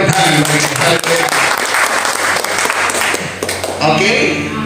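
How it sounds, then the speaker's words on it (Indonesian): A congregation at an apartment worship service breaks into loud, close clapping that swells and then thins, with voices talking over it near the end. "Berikan tepuk tangan bagi kita."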